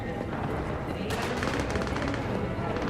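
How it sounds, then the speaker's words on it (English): Random gunfire in a Cyberpunk-style Night City video game, several sharp bursts and popping shots crackling out after about a second, moderately loud over a busy background bed. "Random gunfire going off here."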